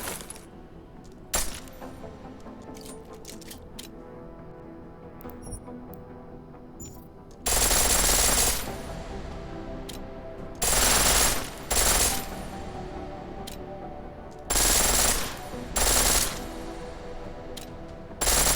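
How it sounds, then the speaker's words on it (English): A pistol firing full auto in a video game, several loud bursts of rapid shots separated by quieter stretches, with mechanical clicks and brass-like jingles between volleys. "The pistol in full auto will take down targets fast, but it'll burn through your ammo"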